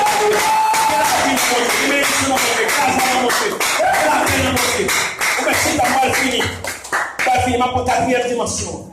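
A church congregation applauds during a sermon, rhythmic overlapping claps and crowd noise filling the room loudly, with voices mixed in and a few dips before the clapping resumes near the end.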